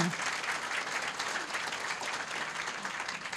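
A roomful of people at an indoor gathering clap together in steady, continuous applause, heard at a moderate distance with no speech over it.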